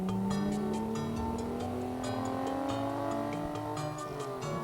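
Animated car motoring along with a steady engine tone that rises gently in pitch, a brief tire squeal, and a light musical backing underneath, moderately quiet.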